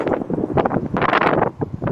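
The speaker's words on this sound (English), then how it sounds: "I know it's windy, sorry" Gusty wind buffets the microphone in loud, rough surges that rise and dip without pause, outdoors beside an Acura RDX SH-AWD A-Spec.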